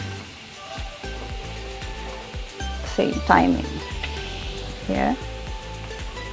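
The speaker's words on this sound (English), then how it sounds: "And then just saute them until you see the garlic" Garlic and onions sautéing in a pan for chicken yakisoba give a soft, steady sizzle, with a couple of louder bursts of frying noise as the pan is stirred. A voice speaks briefly over the cooking.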